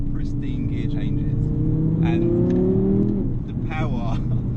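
Engine of a 2016 Audi R8 V10 Plus in manual paddle-shift mode, revving hard with rising pitch sweeps and a quick gear change, loud and close from inside the cabin, with a person talking over it.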